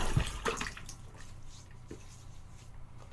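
Water trickles and splashes into a bowl of shaving soap lather, a soft close wet swish with faint drips, no talking.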